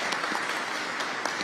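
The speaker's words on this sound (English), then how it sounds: "Let's give her a round of applause" Audience applause at a public safety announcement by the New York governor in Albany, a steady wash of clapping at moderate distance, continuous with no voices over it.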